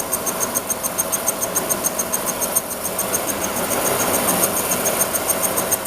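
A machine cutter traversing a 1000 mm plate, giving a steady mechanical hum with a regular pulsing beat and high whining tones, moderately loud and close.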